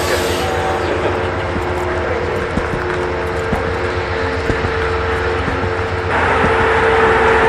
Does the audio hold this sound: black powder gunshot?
no